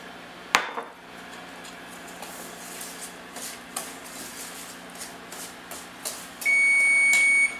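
An oven signals it has finished preheating to 350 degrees with a steady electronic tone near the end, preceded by clinks and light kitchen handling noises in a quiet room.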